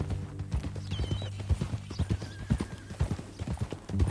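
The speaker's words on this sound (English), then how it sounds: "Some folk buy ranches, some buy horses." A horse in the video game Red Dead Redemption 2 neighs near the start, then its hooves clip-clop in a steady, close walking rhythm.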